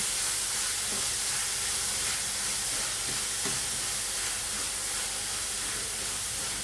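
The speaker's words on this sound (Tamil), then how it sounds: "வெங்காயம் நல்லா வதங்கட்டும்." Onions sautéing in a hot pan for a Tamil greens kootu, giving a steady, close sizzling hiss that fills the whole stretch, with a few faint soft clinks.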